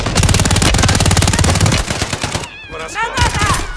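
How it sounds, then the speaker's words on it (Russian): Light machine gun fire in Call of Duty Warzone, a loud rapid burst of automatic shots lasting nearly two seconds, followed by quieter game sounds and a voice speaking. "Ручной пулемет."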